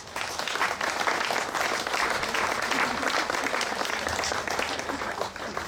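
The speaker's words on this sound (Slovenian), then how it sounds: "Aplavz tudi nam." A crowd at a Slovenian political party members' gathering applauds in a dense, sustained wash of clapping that holds steady throughout, with faint voices mixed in.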